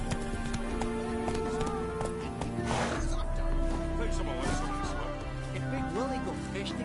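A horse gallops in a PS4 video game, with rapid hoofbeats drumming under game music and background voices.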